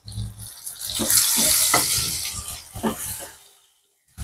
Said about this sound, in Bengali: বেগুনটাও আলুটার সঙ্গে ভেজে নিলাম।